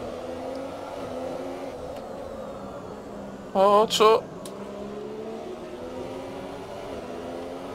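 An F1 2017 race car on the Hungaroring during a safety-car period in rain runs with a steady, moderate engine drone, and a short pair of loud high revs comes partway through. Someone speaks briefly over it.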